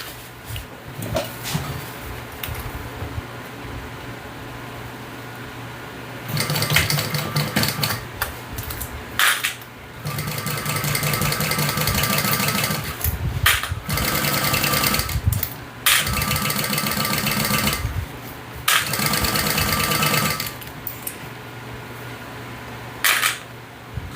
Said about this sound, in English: So let's just sew these together at the inseam